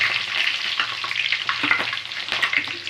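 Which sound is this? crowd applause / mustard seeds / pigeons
mustard seeds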